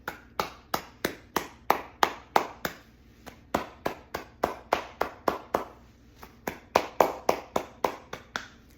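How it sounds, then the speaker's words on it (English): Cupped hands clap against the body during a lymphatic self-massage, giving a steady run of about two dozen sharp, hollow slaps at an even, brisk rhythm, close and clear with no talk. "you want to cup your hands and clap"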